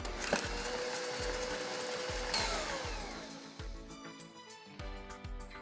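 An electric mixer beats cream cheese and peanut butter together in a bowl, a steady whirring motor with rhythmic thumps as the beaters knock against the bowl, close and moderately quiet.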